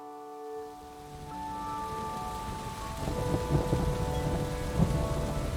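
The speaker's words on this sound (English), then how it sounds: "There's a thunderstorm, you hear it?" Steady rain with low rumbling thunder building and rolling continuously in the Grand Teton Mountains, growing louder partway through; no voices.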